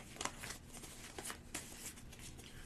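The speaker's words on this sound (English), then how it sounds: "Here's our starting cards. We'll give them a shuffle." A deck of small game cards from a solo tabletop game being shuffled, quiet riffling bursts and soft flicks close to the mic over a few seconds, with no voices.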